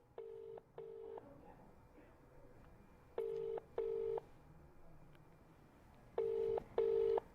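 Telephone ringback tone on an outgoing call, three pairs of clear double rings separated by pauses, loud and alone over a faint background hiss.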